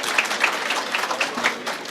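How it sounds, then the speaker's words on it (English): Brief, fairly faint applause from a banquet audience welcoming the master of ceremonies at a chamber of commerce dinner and auction, steady scattered clapping throughout. "A nice round of applause"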